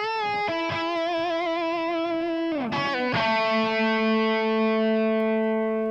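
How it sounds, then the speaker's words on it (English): A soloed distorted electric guitar track played back in Band-in-a-Box on a Mac, sustained fuzzy chords ringing out loud and continuous, with a brief chord change and strum in the middle. "I'll solo the guitar so we can hear just that little bit there"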